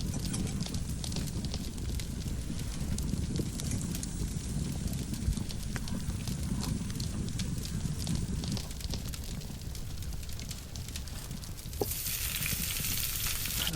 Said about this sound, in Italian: qui il fuoco mi aiuta un po'